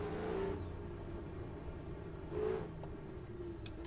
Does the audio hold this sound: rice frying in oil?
no